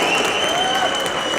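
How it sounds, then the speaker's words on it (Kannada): An audience at a film pre-release event bursts into continuous dense applause, loud and close, with a steady crowd wash of many hands clapping and a faint tonal hum running beneath. "ಏನ್ ಚಪ್ಪಾಳೆ ಕೊಡ್ತಾ ಇದ್ದೀರಾ ನೀವು?"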